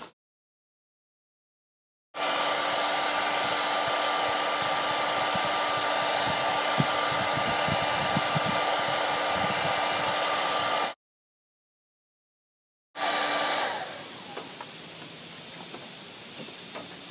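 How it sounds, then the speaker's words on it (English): A hair dryer blows steadily and loudly on a car dent, running in two long bursts separated by a short silence, then fading into quieter hiss. "and that's using a hair dryer."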